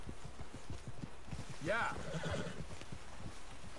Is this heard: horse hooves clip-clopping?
yes